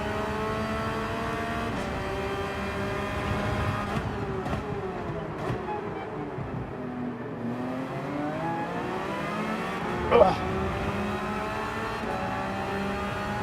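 A Porsche race car's engine in a racing video game at Suzuka sings in rising and falling harmonic sweeps as it revs through gears, steady and close, with a brief sharp spike near the end and no talking.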